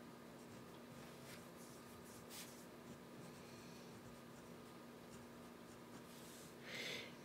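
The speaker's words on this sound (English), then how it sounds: "So I'll do a quick writing sample." A Pilot Custom 743 fountain pen with a broad nib writes on paper, giving faint, soft scratching strokes in short bursts over a quiet hum.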